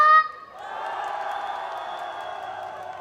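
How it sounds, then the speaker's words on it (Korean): A short burst of voice gives way to a festival crowd at an outdoor concert clapping and cheering, a moderate wash of applause that carries on steadily to the end. "힘차게 박수와 함성!"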